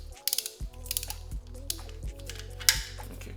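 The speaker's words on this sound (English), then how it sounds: "I'm using a extension with a normal 12mm socket." A ratchet fitted with an extension and a 12mm socket undoes a bolt on a Nissan Skyline R32 GT-R RB26 engine, giving several short bursts of clicking pawl with brief pauses between strokes, close and fairly quiet.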